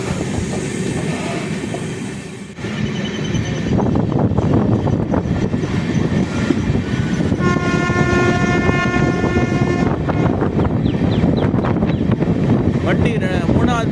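A train rumbles past close by at an Indian railway station, loud and continuous, with a sustained horn sounding partway through and rhythmic clatter of wagons.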